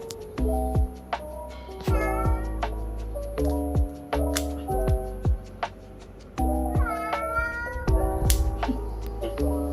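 A cat meows repeatedly during nail trimming, giving about eight drawn-out, complaining cries at irregular intervals, close and clear.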